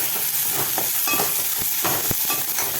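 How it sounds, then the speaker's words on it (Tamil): Tomatoes sauté in a pan while a spoon stirs them, giving a steady close sizzling hiss broken by a few soft scraping knocks, with no talking. "தக்காளி வதங்கட்டும். தக்காளி இதுக்கு இந்த அளவு வதங்கினா போதும்."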